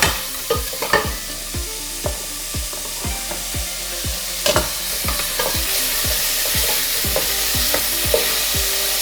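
Onions sizzle steadily in a hot pan while being stirred, with repeated scraping strokes over a constant frying hiss, close and fairly loud, and no voices.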